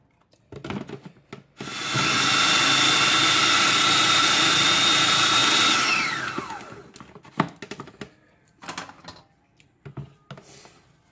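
A food processor blends a falafel mixture of garlic and parsley, a loud steady whir running about four seconds with a rising then falling pitch, framed by clatter and handling noises before and after.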